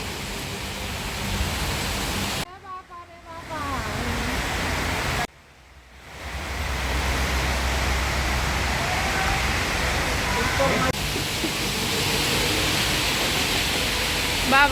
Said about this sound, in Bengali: এই যে দেখুন বৃষ্টি পড়ছে।